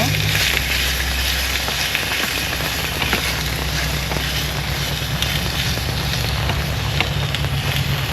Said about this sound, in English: So I'm going to add my chicken. Oh, nice. Sizzling.